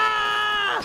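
A knight in the medieval combat game Chivalry 2 lets out one short, close scream that rises and trails off in under a second, with a strained, harmonic vocal tone.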